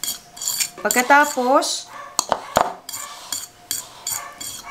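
Keto chocolate chip cookie ingredients and sweetener being stirred together in a bowl, with a utensil scraping and clinking against the sides in short irregular bursts, close up, while a person speaks briefly.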